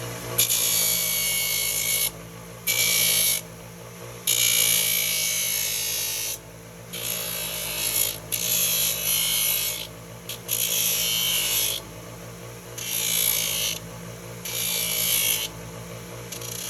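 A farrier takes excess pad off a horse's hoof with steady, close, loud rasping strokes that come in bursts with short pauses between them. No one speaks.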